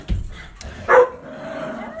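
A dog barks once, a short sharp bark near the mic, followed by a quieter whine or lingering tone, with a faint low thump just before and steady room hush throughout.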